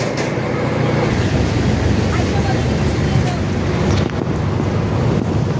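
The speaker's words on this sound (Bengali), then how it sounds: "আমাদের ময়ূর লঞ্চ, সেরকম বড় জাহাজের মতো একটা লঞ্চ।" Steady loud rumble and rush of water and wind aboard the Mayur, a large ship-like passenger launch travelling on a river, continuous throughout with no distinct breaks.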